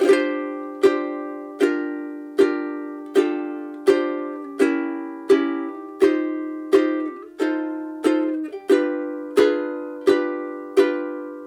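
A ukulele plucks a melody over strummed chords, about fifteen evenly spaced ringing hits, each decaying before the next, clear and close.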